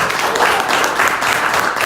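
An audience applauds at a poetry reading in a sidewalk cafe, a dense burst of clapping from many hands, fairly close and loud, with a voice briefly mixed in.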